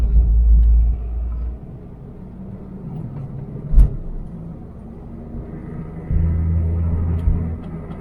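A cheap car cruising at about 35 mph, heard from inside the cabin as a steady low road rumble and engine drone, with a brief thump midway and a heavier surge of rumble near the end.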